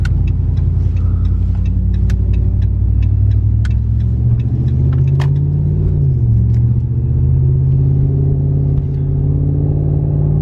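A Ram 1500 pickup truck engine rumbles loudly and steadily, rising in pitch as it accelerates toward 50, with road noise and faint clicks over the low drone.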